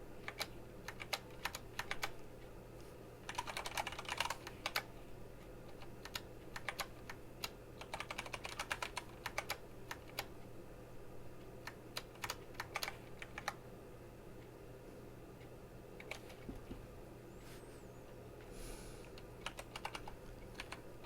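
Someone types a screen name and password on a computer keyboard, quiet close clicks in bursts of rapid keystrokes with short pauses between.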